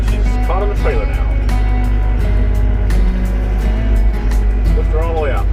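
A truck backing up while hooked to an old Ford F150 frame on a trailer, a loud constant low engine drone with rumbling and rattles, people talking over it.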